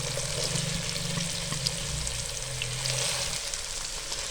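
Garlic, onion and carrots sizzle in hot oil for chicken chow mein, a steady close crackle and hiss with faint stirring and a low hum underneath.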